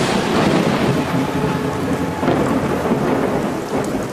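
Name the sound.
thunder, lightning strike in a cartoon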